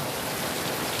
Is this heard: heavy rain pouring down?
yes